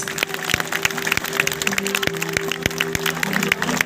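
Sustained applause from an audience at a charity appeal in Seydişehir, Konya, a dense steady clatter of hands lasting the whole moment, mixed with steady tonal music underneath.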